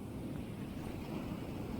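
Big surf rolling in on a beach during surf fishing, a steady low roar of breaking waves mixed with wind noise on the microphone, continuous and fairly loud throughout.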